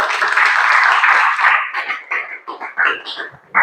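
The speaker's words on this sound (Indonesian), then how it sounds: "Silakan tepuk tangan buat temannya adik-adik" Classroom children clapping for a classmate: a dense, close burst of many small hands that thins after about two seconds into scattered claps and young voices chattering.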